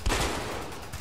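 A single loud gunshot fired at a lock in the video game A Way Out cracks at the start and then fades into a brief, noisy decay.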